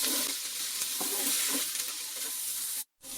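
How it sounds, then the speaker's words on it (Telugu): Pre-boiled chicken frying in oil in a pan, a loud, dense, continuous sizzle close by with faint stirring scrapes, cutting off abruptly near the end, no voices. "ముందుగా ఉడకపెట్టుకున్న చికెన్ అయితే ఇలా వేపుకోవాలండి."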